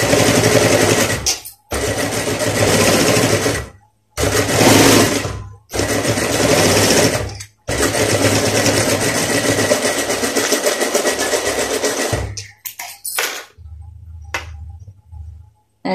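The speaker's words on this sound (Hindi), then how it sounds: "इसके ऊपर हम सिलाई लगाएंगे।" An electric sewing machine stitches a gents' shirt placket. Several loud, close bursts of rapid stitching are separated by short pauses, followed by slower, fainter runs and stops near the end.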